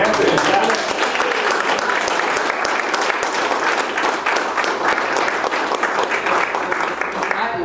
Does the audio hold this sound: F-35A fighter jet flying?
no